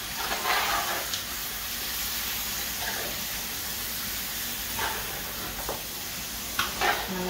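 Aji sizzles in a pot for Guyanese gilbaka curry as a spoon stirs it, a steady frying hiss broken by a few scraping strokes, close by with no voices.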